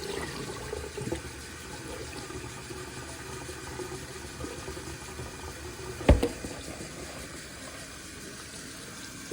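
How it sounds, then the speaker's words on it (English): Water being poured and emptied out of a container outdoors while preparing venison steak over a fire, a soft continuous splashing trickle with a brief sharper knock partway through. "I'm just going to empty that water out."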